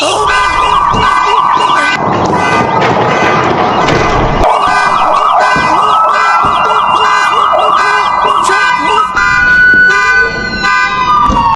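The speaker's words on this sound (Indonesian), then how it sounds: "terdengar suara sirine mobil patroli" A loud police patrol car siren wails continuously, its pitch rising and falling in steady cycles, with traffic noise beneath it.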